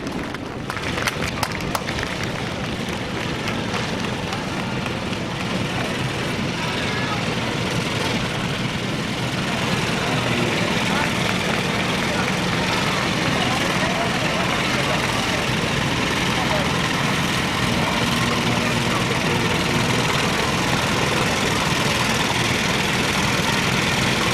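Several Minneapolis Moline tractors from one family idle along a small-town sesquicentennial parade route, a steady low engine rumble that runs the whole time, with broadband crowd and outdoor noise mixed in.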